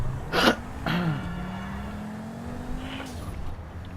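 Car engine in a driving video game with an Audi R8, a sustained steady engine drone with two brief louder bursts near the start and another near the end, no talk.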